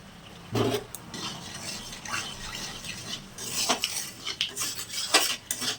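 Utensils clatter against a pan as panch phoron spices go into hot oil, with metallic clinks and stirring scrapes rising over a low background hiss, close and moderately loud.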